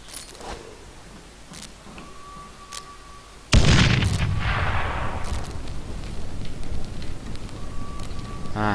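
An old-fashioned bomb in Dead Island: Riptide goes off with a single sharp, loud blast after a stretch of quieter game sounds, followed by a long roaring, crackling rumble that stays heavy to the end.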